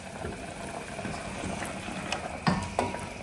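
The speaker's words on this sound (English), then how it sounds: "allow it to simmer on a medium heat, and then later we'll add water to it" Beef simmering in water in a pot on medium heat, a soft continuous bubbling with a few sharper clinks and knocks near the end, quiet and close with no talking.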